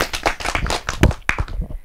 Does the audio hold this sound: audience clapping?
yes